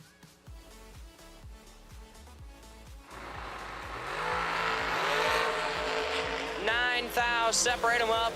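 Drag race cars, a Corvette against a rival, launch down the track: a rough idling rumble swells into a loud sustained engine roar with rising revs near the end, fairly close.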